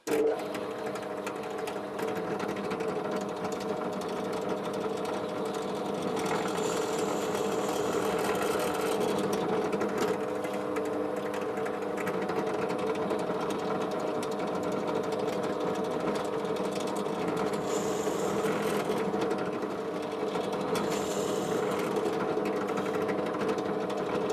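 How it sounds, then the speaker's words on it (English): A pillar drill boring holes in scrap wood in a workshop hums as a steady, loud motor drone that holds unbroken for over twenty seconds, with faint shifts in the whine. "So I'll just get it all set up onto pillar drill, and we'll get them drilled out."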